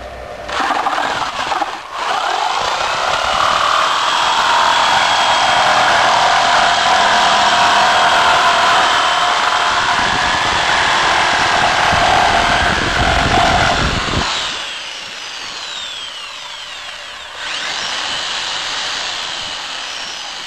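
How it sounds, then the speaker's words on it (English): Power saw rated around 500 watts cutting through a piece of plywood while running on a homemade 1200-watt inverter, a loud steady whine that drops off briefly near the end before resuming. "Cut the piece of plywood."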